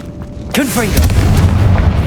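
A Confringo fire spell blasts in Hogwarts Legacy, a sharp burst at onset with swooping magical whooshes, followed by a loud low rumbling roar that sustains to the end.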